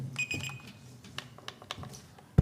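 At a board meeting, a timer is switched on with a brief high electronic tone, followed by scattered soft clicks and taps and a sharp thump at the end.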